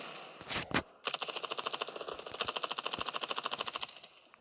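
Rapid automatic gunfire from the mobile shooter game Standoff 2, a couple of sharp bursts followed by a long, evenly spaced rattle of shots, fairly quiet and with no voices.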